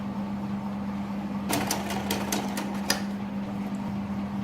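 A sewing machine stitches a kurti seam along a marked line: a steady motor hum, then a short burst of rapid stitching clicks in the middle, close by with no talking.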